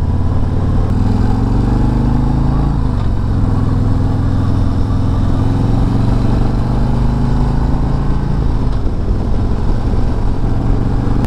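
A 2022 Harley-Davidson Road Glide Special with the 114 engine rumbles loudly and close, its deep V-twin drone rising and falling through gear changes as it accelerates, with constant wind noise underneath.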